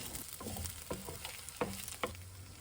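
Kimchi and sliced fish cakes stir-frying over low heat, with a soft, quiet sizzle and a few distinct scraping stirs of the spatula, close and alone without talk.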